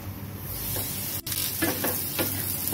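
Diced potatoes, carrots and other vegetables for upma frying in oil and ghee, giving a steady close sizzle with several soft scraping stirs of a spatula in the pan and no voices.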